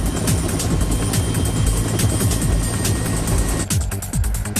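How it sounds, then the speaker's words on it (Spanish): A helicopter flying during construction of a long suspension bridge in Japan, a loud, continuous rotor chop and engine roar with a steady pulsing beat throughout. "Desde un helicóptero llevaron el extremo del cable desde el anclaje a la primera torre."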